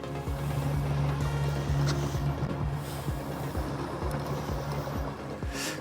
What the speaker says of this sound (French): je vais dire à Lolo de couper les moteurs